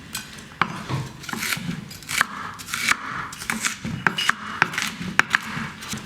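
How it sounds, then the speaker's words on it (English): A knife chops sliced onion on a cutting board for plant-based spaghetti bolognese, giving sharp, close, uneven taps in quick bursts with small scraping sounds between them. "and now we're gonna chop it"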